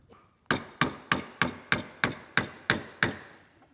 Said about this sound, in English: I'm just going to very carefully with a hammer give them a little bit of tap so it'll sit down in there